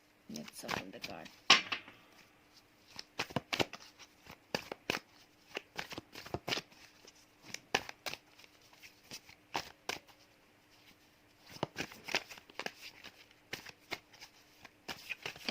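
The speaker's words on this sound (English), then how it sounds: "let's shuffle the card." Tarot cards are shuffled by hand in a string of crisp riffling and slapping bursts, some quick and some spaced by short pauses, recorded close and alone.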